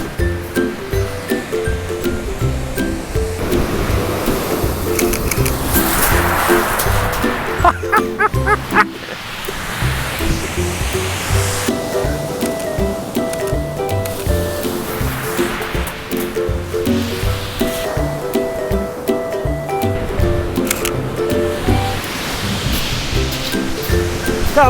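Waves and surf breaking on a beach during Storm Francis as the tide comes in, a loud steady roar with surges, while a dog barks repeatedly nearby and a voice is heard briefly.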